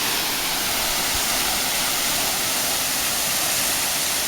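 Constant heavy rush of a jungle waterfall on Kauai, Hawaii, a dense, even roar that holds at full strength throughout, with nobody speaking.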